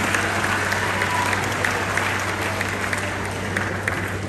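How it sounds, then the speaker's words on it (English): An audience claps during a senior citizens interview session, a continuous, even patter of applause at moderate level with a low steady hum beneath it. "please clap for him."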